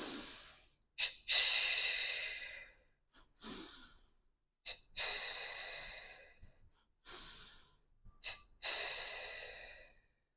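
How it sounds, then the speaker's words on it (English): Slow yoga breathwork, double inhales drawn through the nose and long exhales released through the mouth, repeated in a soft, close, airy rhythm several times with quiet gaps. "2 inhales through the nose, 2 exhales through the mouth."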